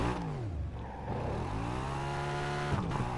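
Stunt car engine in a video game revs and shifts, pitch sweeping up and down through gear changes over steady engine hum, up close with no talk.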